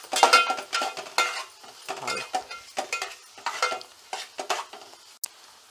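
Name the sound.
stirring tempering with turmeric and garam masala in pan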